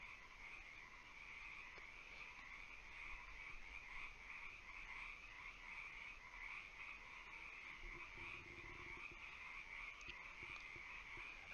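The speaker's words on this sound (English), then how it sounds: "Literal sounds of a marsh." Frogs croak steadily in a marsh, a dense chorus of bands layered over one another and continuing throughout, with a brief low hum near the end.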